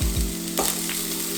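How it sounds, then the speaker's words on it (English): Vegetables sautéing in hot cooking oil, a steady close hiss and crackle with a brief stirring scrape partway through, no talking. "So the first thing you need to do is briefly saute these vegetables in"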